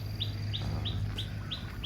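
Young chickens, about a month old, in a homemade backyard coop, peeping in a quick regular series of about six sharp, high chirps over a steady low background hum.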